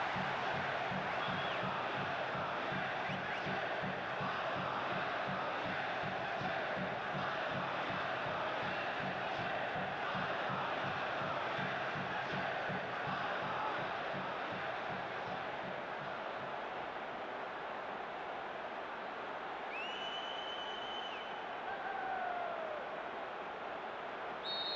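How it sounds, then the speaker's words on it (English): Virtual stadium crowd in the football video game PES 2022, a constant dense roar of massed voices with a rhythmic chant pulsing early on, then easing to a fainter steady murmur with a short whistle near the end. "The crowd so noisy and indeed animated."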